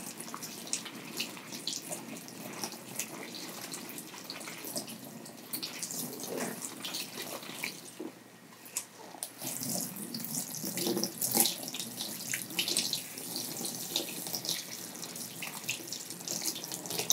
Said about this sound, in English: Just gonna rinse my hands.